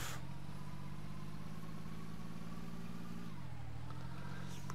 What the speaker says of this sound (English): I left the engine on, so obviously they're attracted to the sound.